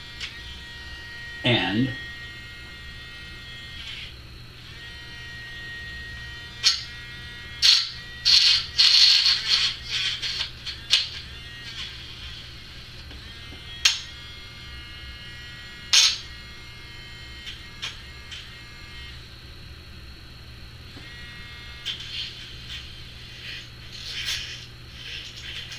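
A small electric eraser whirs in short mechanical buzzing bursts, close and intermittent, amid a person talking.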